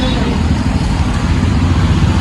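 A new motorbike's engine rumbles steadily as the rider sets off, a loud, continuous low drone filling the short stretch.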